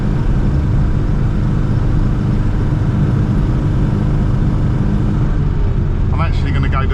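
A Classic Mini under a budget restoration drives along a road, its engine and road noise forming a steady, loud, unbroken drone heard from inside the car.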